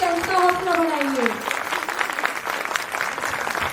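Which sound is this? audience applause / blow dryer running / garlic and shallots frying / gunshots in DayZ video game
audience applause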